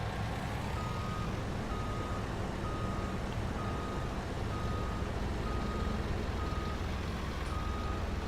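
A truck in Farming Simulator 19 reverses with a steady, evenly spaced series of high electronic warning beeps over a constant low engine rumble, close and continuous.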